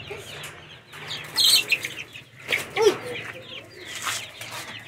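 Chickens cluck and squawk close by in short, agitated bursts, with some wing flapping over a low background hum and a voice briefly heard.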